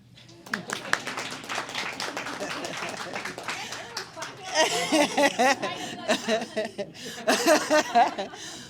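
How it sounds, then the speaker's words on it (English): Audience at a chamber of commerce education panel clapping, starting as scattered claps and thickening into a burst of applause mixed with chuckles and murmuring voices. "Feel free to clap for that."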